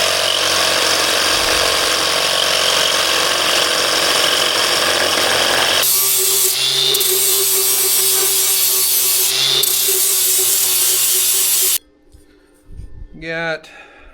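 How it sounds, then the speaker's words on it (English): A steel pipe being coped and ground for a tube bumper, with loud continuous grinding for several seconds before a harsher, brighter tool noise takes over, then quieter scraping and handling sounds at the end. "Got my little pipe here all coped out and grinded up."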